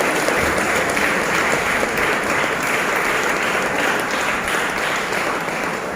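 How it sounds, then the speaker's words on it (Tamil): Church congregation at a novena clapping together in steady, dense applause that fills the hall for several seconds, loud and unbroken with no talking. "எல்லாரும் கைத்தட்டு."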